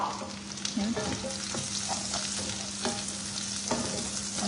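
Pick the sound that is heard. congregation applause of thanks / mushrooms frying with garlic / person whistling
mushrooms frying with garlic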